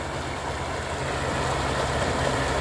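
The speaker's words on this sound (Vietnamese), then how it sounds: "ghe của anh bạn bè công trẻ này chạy cũng quá mạnh nha các bạn" A sand-pumping boat engine runs hard and steady, a loud, continuous low rumble that fills the whole stretch without any break.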